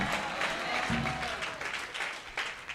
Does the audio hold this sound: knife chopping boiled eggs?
no